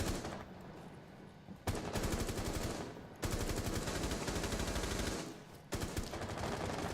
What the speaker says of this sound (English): Steffi takes him down regardless with a swift headshot.